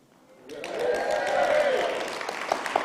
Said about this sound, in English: What a great noise from a socially distanced crowd.